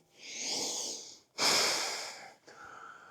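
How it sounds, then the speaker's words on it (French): Close, audible breaths: a long exhale, a sharper, stronger breath after a brief gap, then a softer third one, with no speech around them. "Peut-être penser à respirer des fois."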